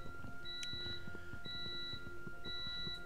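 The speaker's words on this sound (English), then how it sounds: "Sorry about that beeping in the background, that's probably my microwave." A microwave beeps three times in the background, evenly spaced, thin and moderately faint over steady game ambience from TerraFirmaCraft.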